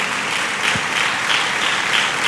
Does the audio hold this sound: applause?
yes